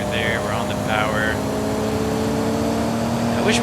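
Race car engine in a rally video game holding a steady drone on the power, with harmonic tones running under a voice talking over it throughout.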